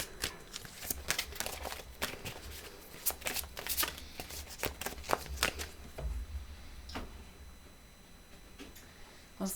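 A deck of oracle cards shuffled by hand for a tarot reading, with repeated soft riffling bursts and close card flutters at an irregular pace, quiet and without speech.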